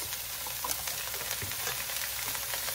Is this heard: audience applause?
no